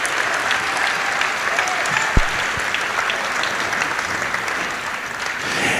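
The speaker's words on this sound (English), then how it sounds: "Let's have a big round of applause for what is definitely some amazing businesses here in the Tri-Cities" Crowd at a business excellence awards gala claps in continuous, lively applause, a dense steady patter filling the room, with one brief thump partway through.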